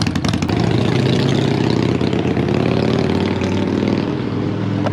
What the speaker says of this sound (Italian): Sto sentendo il sound dei miei scarichi per la prima volta